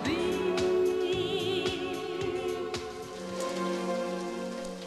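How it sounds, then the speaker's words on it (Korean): Heavy rain pours down in a film scene as a steady wash of patter, blended with sustained tonal music. No one speaks. "비가 쏟아지는 날"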